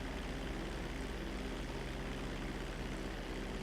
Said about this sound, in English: Wait, there's a helicopter?